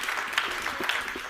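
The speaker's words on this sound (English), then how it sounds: "A warm round of applause, please, to this gentleman" Brief warm applause from a conference audience welcoming Vodafone Group's Joakim Reiter, a steady patter of many hands at moderate volume.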